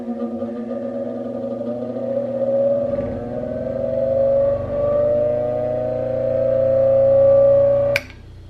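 A restored Baldor buffer grinder runs with a steady, loud electric motor hum and whine that rises slightly in pitch as it spins up, then cuts off abruptly near the end with a sharp click.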